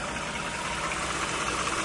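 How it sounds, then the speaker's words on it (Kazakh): A car engine idles smoothly and steadily, an even mechanical drone with no knocks or changes in pitch. "мотордың жұмыс істеу қалпы өте жақсы, артық дауыссыз"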